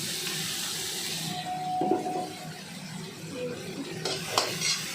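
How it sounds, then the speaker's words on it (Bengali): Onions frying in mustard oil with kalonji seeds in a pan, a steady soft sizzle with brief stirring scrapes and a faint clink, heard close with no talk. "পেঁয়াজটা একটু ভাজা ভাজা হোক বন্ধুরা"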